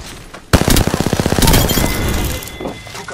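Close, loud automatic gunfire in Apex Legends rattles in a rapid burst of evenly spaced shots, mixed with shield-breaking crackle and shattering, then fades into softer game effects.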